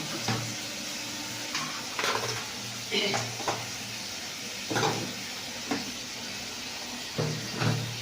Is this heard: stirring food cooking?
yes